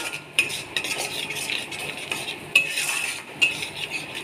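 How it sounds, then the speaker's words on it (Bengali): Spice paste with water being stirred and sautéed in a pan, a spoon scraping and clinking against the metal in an uneven rhythm over a soft sizzle, close and fairly clear, with no talking. "জল দিয়ে এবার মশলাটাকে কষা হবে।"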